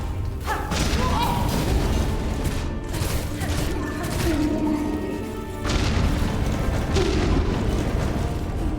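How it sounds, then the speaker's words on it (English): Deep booming blasts from bombs going off in Hollow Knight: Silksong roll over a dense, rumbling game soundscape, with heavy impacts and whooshing bursts recurring through the stretch. "So many bombs."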